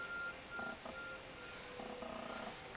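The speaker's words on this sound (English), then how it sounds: "Your arc phone is beeping." In Pokemon Legends Arceus, the Arc Phone gives a few faint, soft electronic beeps in short pairs, set quietly against a steady hum of game background sound.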